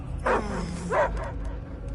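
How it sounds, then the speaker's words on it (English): A dog barks twice in a Guardians of the Galaxy video game, two short muffled woofs over a low steady rumble, close and moderately loud. "I hear only barking"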